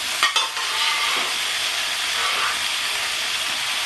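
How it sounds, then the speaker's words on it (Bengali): Steady sizzling hiss of okra, potatoes and split chickpeas stir-frying in a pan, with a couple of brief clinks near the start and no talking. "আমি এবার এই আলু আর ডালটা একটু ছেঁকে দেবো দিয়ে সাথে একটু কষতে থাকবো"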